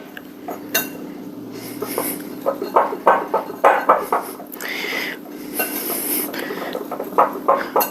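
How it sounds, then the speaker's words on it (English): Dry cookie ingredients for keto low-carb chocolate chip cookies whisked in a bowl, a run of brisk scraping strokes and light metallic clinks of the whisk against the bowl, close and fairly loud, with no talking. "we're going to incorporate that with a whisk"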